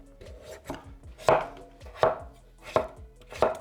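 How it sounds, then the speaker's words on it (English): A knife dicing microwaved eggplant into small cubes on a cutting board, with a run of crisp, close knocks, several louder chops landing roughly every half second. "I will dice the vegetables into small cubes."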